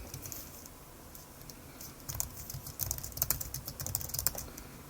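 Quiet keystrokes on a computer keyboard as an email address is entered, sparse at first and then quicker, clustered taps close to the microphone in a calm room.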